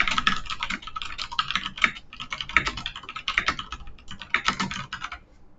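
Rapid typing on a computer keyboard while entering text into a new file in a text editor, with close, crisp keystrokes in quick irregular bursts and short gaps between words, no voices.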